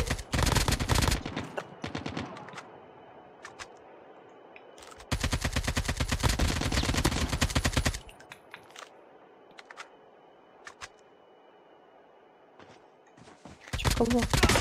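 Bursts of rapid automatic gunfire from a video game, loud and close, in several volleys with a long sustained stretch in the middle and quieter gaps between.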